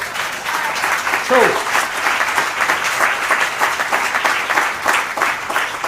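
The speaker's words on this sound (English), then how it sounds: "Y'all better clap them hands on that." Audience applause at a community unity gathering, a loud, sustained wash of many hands clapping with a brief cheering voice rising above it.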